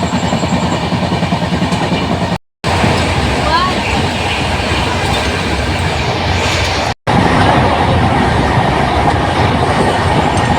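The Dhauli Express (12821) runs from Howrah to Puri with a loud, steady rolling rumble and clickety-clack of wheels on rails close by. Voices are heard under the train noise.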